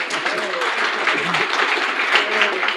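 Audience clapping at a live interview show, a steady wash of applause mixed with voices talking over it.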